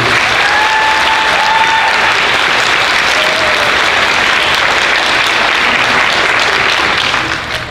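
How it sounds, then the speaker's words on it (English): Audience at an eighth grade symphonic band spring concert gives a sustained round of applause, dense steady clapping filling the room for several seconds before tapering at the end, with no talk over it. "So if you don't mind, give them a round of applause"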